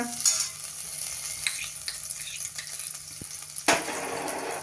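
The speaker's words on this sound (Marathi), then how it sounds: "कुकर गरम करायला ठेवलाय, त्यामध्ये हे 1 टेबलस्पून एवढं बटर घालूया" Soft, steady sizzling of butter in a hot pressure cooker, with a few light metallic clinks and one sharper clatter near the end.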